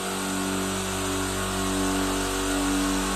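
A 100-litre oil-free AUARITA air compressor hums steadily at a constant pitch, loud and close, with no pauses or talking.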